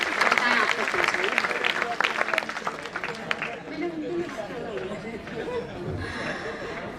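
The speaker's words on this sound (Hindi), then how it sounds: "इनके लिए तालियां बजाएं आप" Audience applause and crowd chatter at a Hindi/Urdu kavi sammelan poetry recital, a dense clatter of clapping that is loudest at first and eases into murmuring hubbub.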